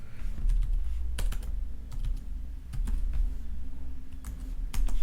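Keys clatter on a computer keyboard as a command is typed into a Linux terminal, a steady run of sharp clicks with a few louder strikes over a low background hum, close and alone without speech.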